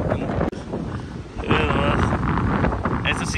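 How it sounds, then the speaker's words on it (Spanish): Gusty wind buffets the microphone on a high suspension bridge in Mazamitla, Jalisco, a loud steady roar that swells midway, with voices talking underneath. "Mucho viento."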